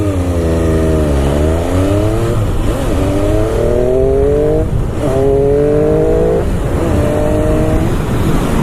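An MV Agusta F3 motorcycle fitted with a new, road-legal exhaust accelerates hard on an open road, its engine note climbing steeply through about four quick gear changes, loud and close.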